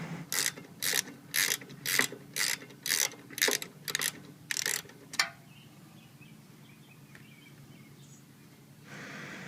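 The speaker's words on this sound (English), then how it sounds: "we use a 12mm socket and just simply loosen it up until it's loose and pull it straight out" A hand ratchet with a 12mm socket clicks in about ten quick, even bursts while loosening the caliper bracket bolt on the rear brake of a 2002 Honda Shadow Sabre 1100, followed by quieter faint handling noises.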